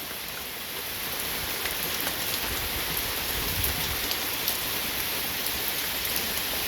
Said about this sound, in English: rainstorms going on this morning